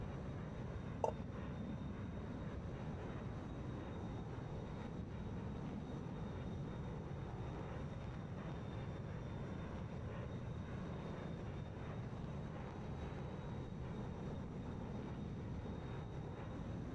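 A Boeing C-75 Stratoliner cruising on a long historical flight from Canada to Iceland in Microsoft Flight Simulator, its engines a steady, even drone heard from inside, with one brief faint click near the start.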